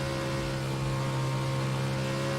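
In a racing video game set on the Bathurst track, a stadium truck's engine drones loudly and continuously, with a strong buzzing tone and layered harmonics.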